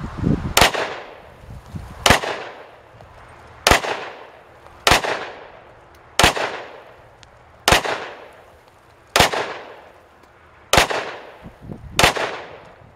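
A Glock 27 pocket pistol in .40 fires Ranger bonded rounds, giving nine sharp, loud reports spaced evenly about one and a half seconds apart, each with a short ringing decay.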